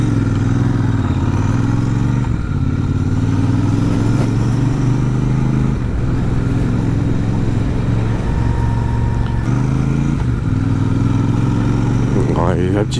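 A Royal Enfield Super Meteor 650 motorcycle pulls away from a stop, its engine drone loud and continuous with a low rumble rising gently as it gains speed, with wind noise throughout.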